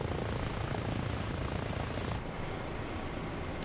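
Helicopter in the video game Arma Reforger flying steadily, a continuous dense rotor and engine roar at even loudness throughout, with no talking.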